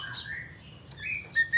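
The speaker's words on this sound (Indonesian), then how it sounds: "Cucak cungkok ini jantan jenis kelaminnya." A male cucak cungkok songbird used as a master singer for competition birds gives a few sliding whistled phrases and short chirps, moderately faint and close, with no talking.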